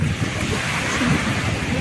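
Steady gusty wind buffeting the microphone at a beach over a broad wash of surf-like noise, continuous and fairly loud throughout.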